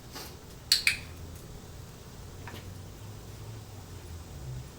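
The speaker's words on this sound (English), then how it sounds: "I'm just clicking, letting her hear it." Two quick, sharp clicks from a dog training clicker close together near the start, followed by a fainter click, over a quiet background hum.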